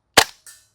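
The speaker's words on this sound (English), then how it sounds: "this is my first time firing the gas mag" Novritsch SSQ4 airsoft pistol fires a single sharp, loud shot on an overgassed gas magazine, followed a moment later by a softer hiss-like puff of gas.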